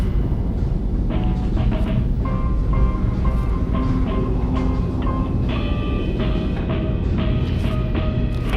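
Train ride through a video game level in Portal Stories: Mel, heading toward a station: a steady, loud rolling rumble runs throughout, with faint tonal squeals and clatter layered over it and no voices.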